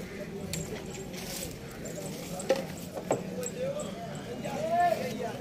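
A mare's hooves clop against hard ground at a busy horse market, a few distinct knocks rising under steady crowd chatter and nearby voices talking.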